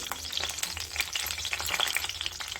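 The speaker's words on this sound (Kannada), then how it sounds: "ಬದನೆಕಾಯಿ ಎಲ್ಲ ಕಡೆ ಚೆನ್ನಾಗಿ ಫ್ರೈ ಆಗಬೇಕು" Brinjal fries in oil in a pan while being turned so it cooks evenly, a side dish in progress; a continuous moderate sizzle crackles with scraping and stirring clicks, close by and without speech.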